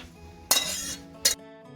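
Roasted sesame seeds and cumin are moved from a pan onto a plate, giving two brief, bright metallic clinks about three-quarters of a second apart, close by in a quiet room.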